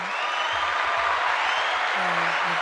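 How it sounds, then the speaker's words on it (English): A small studio audience claps for a guest on an interview show. The applause is brief and steady, with a low voice briefly heard underneath. "Another round of applause, Kwame K. for me"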